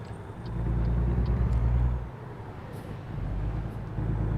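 A heavy truck driving in American Truck Simulator, hauling a load along a coastal road near Santa Cruz: steady low engine rumble with rising and falling drone, close and continuous, with faint higher whines above.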